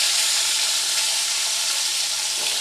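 Malabar spinach stems sizzle steadily in a hot pan over low to medium heat, a close, even hiss of frying with no talk.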